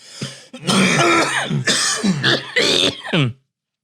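A few harsh throat-clearing coughs in quick succession, close and fairly loud, with brief pauses between bursts.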